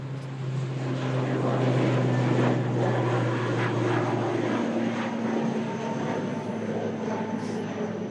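An ATR turboprop airliner takes off from the long runway at Manchester Airport, its steady propeller drone and engine roar loud and sustained throughout, with no voices.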